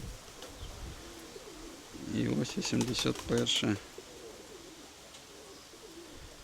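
Feather-footed pigeons coo in a short burst of several throaty calls close by, beneath someone speaking at a low level.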